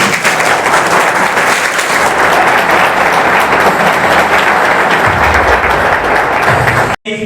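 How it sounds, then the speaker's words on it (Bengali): Loud, sustained applause from a crowd at a government ITI college event, cheering a student's handmade Bullet motorcycle. The dense clapping runs unbroken for about seven seconds and cuts off sharply just before the end. "নিজের হাতে তৈরি বুলেটের জন্য একটি জোরে করতালি"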